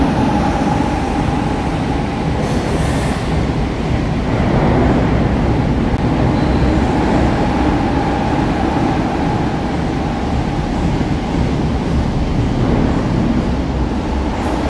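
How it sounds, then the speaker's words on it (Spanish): A steady, loud rushing roar of a high-speed train passing near Delicias station in Zaragoza, a continuous broadband rumble with no break for the whole stretch. "pasan los trenes de alta velocidad que comunican la capital maña con Cataluña"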